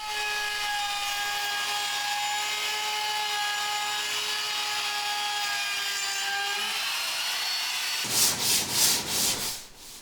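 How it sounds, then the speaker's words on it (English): A steady, continuous sanding hiss on wood runs for several seconds, then shifts into loud rhythmic back-and-forth strokes near the end. "And back to some sanding."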